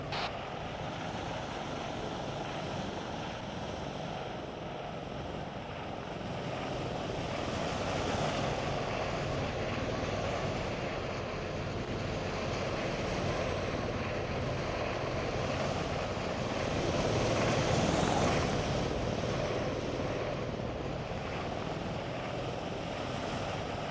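An aircraft engine in Arma 3 drones steadily as the plane comes in to land at an airfield with an autopilot failure. The roar is broad and continuous and swells slightly toward the end.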